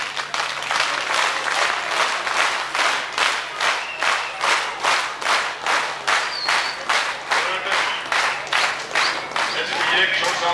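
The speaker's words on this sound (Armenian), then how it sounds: "ես ուզում եմ մի հատ ծափահարենք" Sustained applause from an audience at an Armenian gathering, rhythmic dense clapping throughout, loud and steady with a faint voice underneath.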